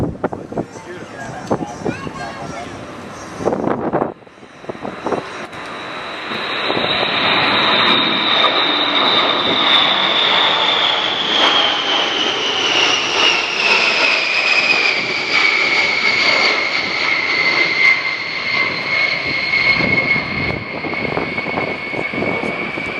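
A USAF B-52 Stratofortress bomber makes a low jet pass at an airshow in London, its roar swelling loud and holding with a slowly falling whine as it passes, with crowd voices and commentary underneath.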